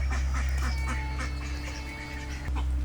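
Young domestic ducklings call in a loose, continuous chorus of quacks and peeps over a steady low hum, the calls close and fairly loud throughout.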